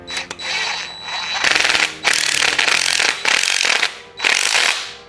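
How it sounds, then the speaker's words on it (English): Impact wrench running in a bolt during a Honda J-series timing belt kit install, four loud rattling hammering bursts of about a second each, separated by short pauses and close to the listener. "I'm gonna use my impact just to kind of bring it in a little bit"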